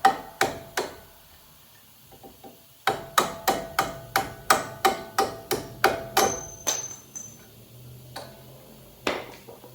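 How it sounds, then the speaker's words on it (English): Sharp metallic hammer blows on a punch drive steering knuckle bolts out of a Ford Edge during a wheel bearing job: a few isolated strikes, a short pause, then a steady run of about a dozen loud, evenly spaced hits and a final pair. "Had to kind of punch those bolts out."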